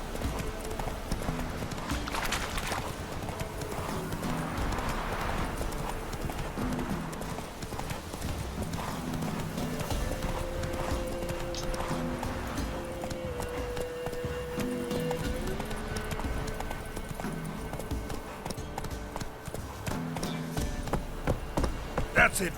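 Roach the horse clip-clops steadily on the ground in The Witcher 3, a continuous rhythmic hoof beat throughout over a low game music drone.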